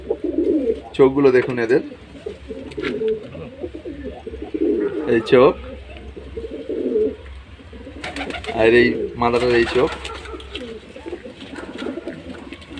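Giribaz pigeons coo softly in a loft, their low murmuring running beneath someone speaking Bengali close by for most of the stretch.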